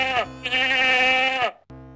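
A cartoonish sheep bleat from the video game Freddy Pharkas, one long wavering baa lasting over a second, loud and close, followed by a brief clipped tone.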